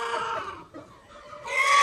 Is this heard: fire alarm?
no